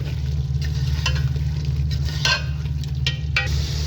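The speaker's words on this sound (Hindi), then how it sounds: "अब हम इसमें 1 चम्मच लहसुन मैंने कूट लिया था, ये शामिल करेंगे और गोश्त को अच्छी तरह भून लेंगे।" Beef and crushed garlic fry in a pan with a steady, loud sizzle, broken by occasional scraping stirs, under a constant low hum and with no voices.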